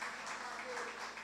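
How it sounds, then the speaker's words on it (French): An audience claps to welcome a philosophy lecturer. The applause is brief, faint and fairly even, with a distant crowd quality. "Et merci donc de l'applaudir."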